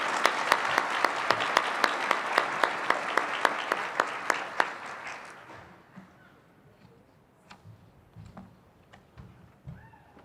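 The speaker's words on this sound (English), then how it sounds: "Give these ladies a round of applause." Clapping from an audience at a regional science and engineering fair awards ceremony, a dense burst of hands for about five seconds that then thins out and fades into scattered claps and room noise.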